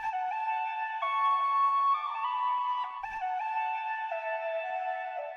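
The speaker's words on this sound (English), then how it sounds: "I added the plate." A sustained, layered music sample with plate reverb applied, soft chords shifting slowly beneath a smeared, shimmering reverb tail, playing steadily and alone with a brief low thump near the middle.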